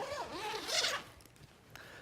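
Zips on a Peak Design travel camera bag are pulled open in one quick, close, crisp rasping run, followed by faint handling rustles.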